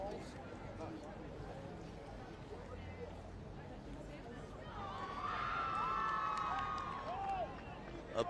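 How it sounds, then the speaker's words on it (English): A crowd at a school rugby sevens match swells into a broad, distant cheer, with whistles and shouts rising over a steady murmur, then fading slightly. "A big cheer went up for the conversion, but unsuccessful."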